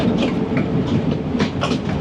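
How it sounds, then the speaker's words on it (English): Train running in Sri Lanka, a steady loud rumble with rhythmic clickety-clack of wheels over rail joints, close and continuous with no talking. "It looks like such a cool train."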